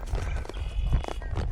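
A saddle horse being driven under training cues, hooves clip-clopping at a steady walking rhythm close by, with a brief whinny-like tone and low background rumble throughout.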